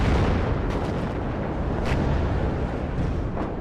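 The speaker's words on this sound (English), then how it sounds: "Just hear the constant gunfire here." Constant gunfire and artillery from a WARNO real-time strategy battle, a dense rumbling wall of distant blasts and crackling shots with a few sharper bursts standing out, steady and loud throughout.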